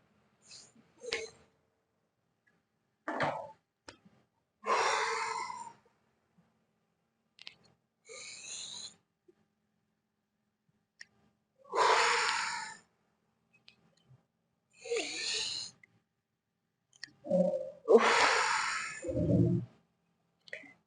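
Breaths let out during a yoga sequence of the Tibetan rites moving into cobra pose, several separate audible exhales and sighs spaced a few seconds apart, close and fairly soft with quiet pauses between.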